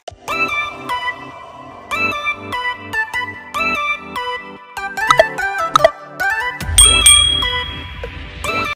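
Bright electronic notification chimes ring out in a quick melodic sequence of clear bell-like tones, followed by a denser, louder burst of layered ringing near the end, with no talking.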